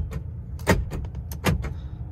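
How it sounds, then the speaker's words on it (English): Power door lock actuators on a 1989 Cadillac clunk twice in quick succession, each a short, fairly close mechanical thump-click heard alone inside the car. "Door lock buttons work properly."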